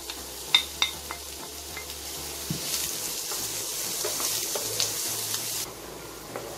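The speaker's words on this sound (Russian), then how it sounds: "Одну среднюю луковицу я порезал мелким, мелким кубиком и добавляем на сковороду. Будем обжаривать до красивого золотистого цвета." One medium onion, finely diced, frying in a pan for a beetroot salad: a steady close sizzle and crackle, with a few light clicks of a utensil stirring against the pan, no voices.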